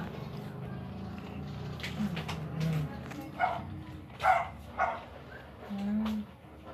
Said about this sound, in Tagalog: Baliw yung mga aso na yan.